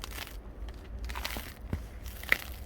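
Faint, quiet crunching and crinkling from a car's seats as someone moves on them, a few soft irregular crackles and a sharper crunch near the end.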